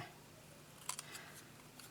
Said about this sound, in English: So let's cut around it